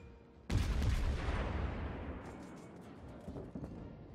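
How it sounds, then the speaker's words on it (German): A heavy naval gun salvo in World of Warships from the cruiser Königsberg: one loud, deep boom that rolls out into a long fading rumble, with a few faint thuds near the end. "Die Geschütze, die klingen so bad, ey."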